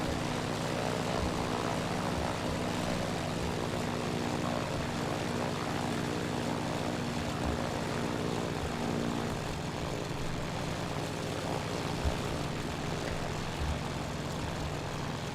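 In a flight video game, the engine of a F4F-4 Wildcat propeller fighter drones steadily throughout in flight, a continuous rumbling buzz at a moderate level with no talk over it.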